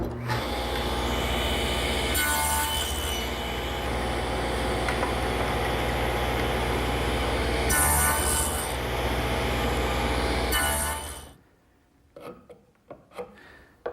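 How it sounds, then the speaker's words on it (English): A table saw fitted with a tenoning jig cuts the cheeks of wooden tenons. The motor gives a loud, continuous whirring roar for about eleven seconds, then cuts out, leaving a few faint knocks and handling sounds. "I've installed my tenoning jig on the table saw, and this is really the ideal tool to make the cheek cuts on the tenons"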